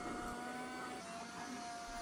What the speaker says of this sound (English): for light duties like trying to vacuum on hardwood floor, this does quite a good job